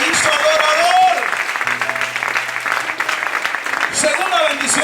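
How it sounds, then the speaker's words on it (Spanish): A church congregation claps loudly, sustained applause that rises and fades while a voice speaks over it and a low tone lingers beneath. "Dale un aplauso fuerte al Señor."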